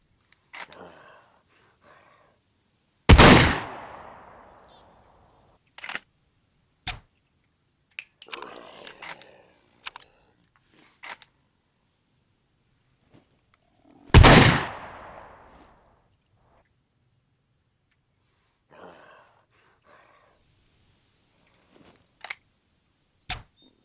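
Gunfire in the video game Scum: two loud, sharp shots ring out with long decaying tails, separated by scattered mechanical clicks and clacks of weapon handling, with brief silences between.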